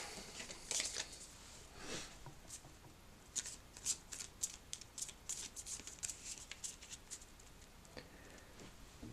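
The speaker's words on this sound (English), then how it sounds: "we'll take all our cards and reshuffle them" A deck of tabletop game cards is shuffled quietly nearby in quick riffling bursts, each a short papery flutter with pauses and soft handling sounds between.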